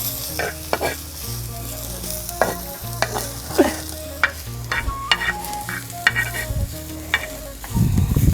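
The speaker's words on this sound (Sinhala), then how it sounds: "තෙල් ටිකක්, පොල් තෙල් ටිකක් දාලා තෙම්පරාදු කරන්න ඕනේ." Chillies, curry leaves and red onion tempering in coconut oil: a busy, crackling sizzle with repeated stirring clatters and spoon knocks, building to a louder burst near the end, with no voices.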